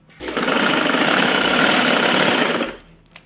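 A sewing machine stitches a seam on fabric for a girl's winter frock in one continuous, close, loud run of rapid mechanical whirring and needle chatter lasting about two and a half seconds, then stops.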